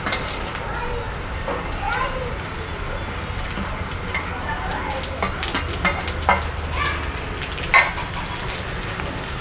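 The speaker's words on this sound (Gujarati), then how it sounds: "હવે ઘી ગરમ થઈ ગયું છે તો હવે આપણે જે ટુકડા કરેલા છે ગોઠલીના તે નાખી દેશું" Pieces of mango seed frying in hot ghee, giving a steady, dense sizzle throughout with faint stirring clatter and occasional louder pops.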